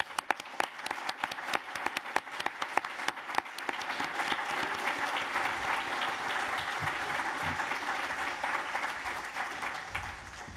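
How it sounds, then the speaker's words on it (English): An audience at a doctoral graduation ceremony gives graduates a round of applause, opening with sharp, distinct claps that swell into dense, sustained clapping from many people. "let's give our graduates the sonorous round of applause they deserve"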